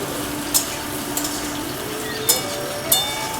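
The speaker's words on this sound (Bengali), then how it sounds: "তারপরে দিয়ে দিচ্ছি লাল আলু এই সবজিগুলো আগে একটু নাড়াচাড়া করে নেব" Vegetables and red potatoes are stir-fried in a pan with a steady soft sizzle, punctuated by a few sharp scraping clinks of the spatula against the pan, close and without talk.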